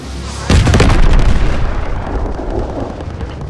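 WWII flak gun firing in the Call of Duty WWII game, a sudden heavy blast followed by a rapid flurry of reports and a rumbling decay, loud and close.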